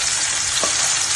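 Shrimp frying in a home kitchen pan, a steady loud broadband sizzle that runs through the whole moment with a brief stirring scrape in the middle, no voices.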